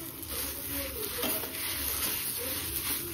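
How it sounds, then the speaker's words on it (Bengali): Pieces of taro frying in a pan, a steady oily sizzle with scraping stirring sounds and occasional light clinks of utensil against the pan. "এটা হচ্ছে কচু, কচু এখন ভাজা হচ্ছে।"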